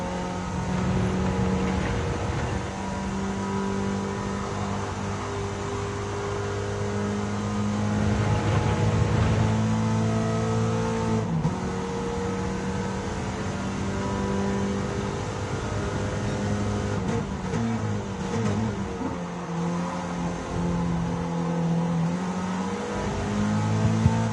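Engine drone from onboard a 1993 Volvo S40 in a one-make race, heard from the passenger seat as a steady loud tone that rises and falls through gear changes, with no talk.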